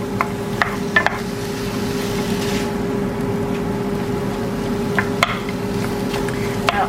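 Lean butcher's minced beef cooking in a pan, giving a steady low sizzle with a few sharp scrapes and clicks of stirring scattered throughout, fairly close and continuous.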